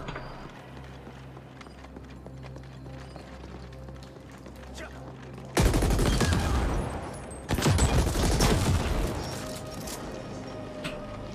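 Shotgun blasts in the sci-fi action game The Ascent, two heavy broadband bursts that erupt loudly after a quieter stretch of game ambience and roll on with rumbling echo and debris.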